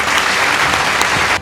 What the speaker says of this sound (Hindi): इसलिए बच्चों के लिए ताली बजाई जाए।